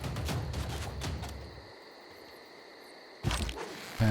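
A few sharp gunshot cracks in Civilization VI as a unit fires on a scout, bursts at the start and again near the end with a quiet gap between.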